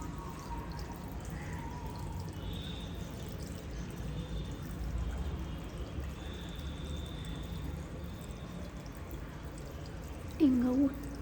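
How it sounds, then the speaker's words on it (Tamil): Plain water, with no shampoo, is poured over hair to rinse out a black cumin treatment for grey hair, giving a soft, continuous splashing wash that runs quietly and close, with a brief louder drip near the end. "தண்ணி ஊற்றி வாஷ் பண்ணி பார்ப்போம்"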